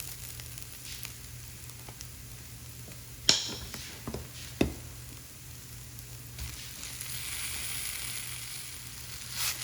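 Garlic and shallots fry in coconut oil with a steady, soft sizzle, punctuated by a few sharp clinks and stirring knocks, close and quiet throughout.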